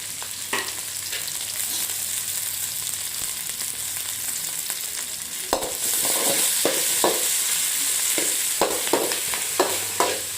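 Green chillies and curry leaves fry in hot oil for vermicelli upma. A continuous close sizzle grows louder partway through, broken by repeated sharp spatula scrapes and taps.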